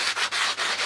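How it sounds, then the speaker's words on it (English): Sandpaper rubs across a model aircraft wing with laser-cut ribs on a Coyote build. Close, rapid back-and-forth strokes sound as a steady rhythmic scratching, about four strokes in under a second. "if you just place it on the piece that you're sanding, like this wing"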